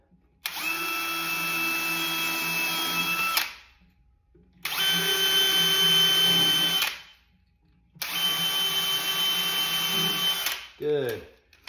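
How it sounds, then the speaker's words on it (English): An electric drill bores a small pilot hole into a wooden door frame for an outdoor shower saloon door, running in three steady high-pitched whirring bursts of about three seconds each, with short pauses between them. "We're gonna throw in this little tiny drill bit, which is smaller than the barrel on that screw, so it will bite."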